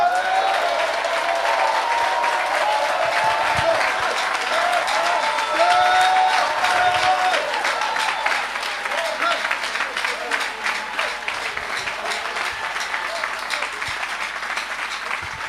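A church congregation claps and cheers steadily during a French-language worship service, with a sustained crowd roar and voices calling out throughout.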